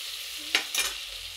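Stuffed brinjals fry in oil in a pan with a steady hiss, and two short stirring scrapes sound close by.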